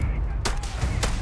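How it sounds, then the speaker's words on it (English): Two sharp gunshots from the video game Starfield, sounding distant, a loud crack followed by a second about half a second later over a low background rumble. "See if I can get a distant shot."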